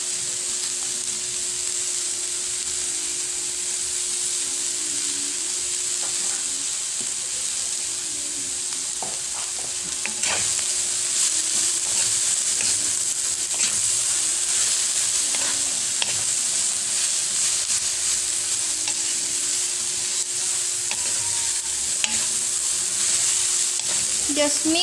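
Lumpia filling ingredients sizzle steadily in a hot pan, a dense continuous fry that grows slightly louder midway, with occasional stirring clatter and scrapes close by.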